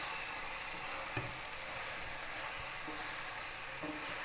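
Chicken kababs stirred into a pan of chicken biryani give a dense, constant sizzling hiss with occasional soft scrapes of the spoon, close and without talk.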